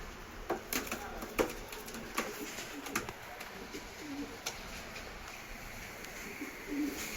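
Racing pigeons and their chicks cooing nearby, soft repeated low coos with scattered clicks and light knocks over a quiet background.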